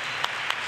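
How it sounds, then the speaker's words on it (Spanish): Applause for Manolo on stage at a Cádiz television gala, a steady dense wash of clapping with two brief louder bursts. "le deis un aplauso y un abrazo, Manolo, a Manolo"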